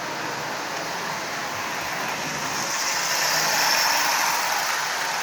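A Marx 6000 toy train locomotive with its motor reinstalled runs steadily along the track, giving a continuous whirring, rumbling drone that swells slightly partway through, with no talking.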